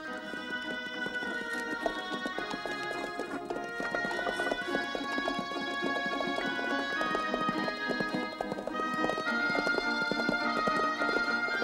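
Horses trot at a brisk pace pulling a carriage, with a steady rapid clip-clop of hooves close by and continuous rattling throughout.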